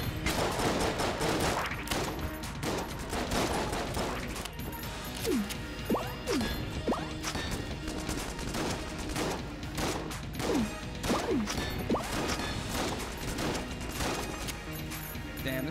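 Rapid gunfire in the dungeon-crawling game Enter the Gungeon, with repeated shotgun blasts and smashing impacts packed into a dense, continuous barrage over busy game effects.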